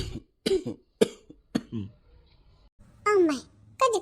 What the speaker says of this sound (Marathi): अम्माई, कधी खोकला आला काय?